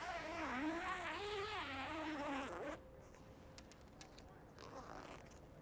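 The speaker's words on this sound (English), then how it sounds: "Does unzip fairly easy and is very easy to pull out." Zipper on an RV batwing awning cover being pulled open in a long, wavering buzzing rasp for a few seconds, then quieter handling sounds as the cover is opened.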